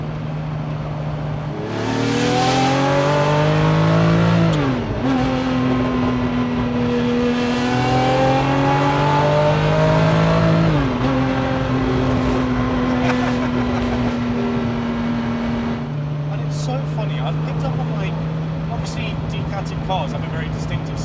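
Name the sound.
Ferrari F50 with Capristo exhaust revving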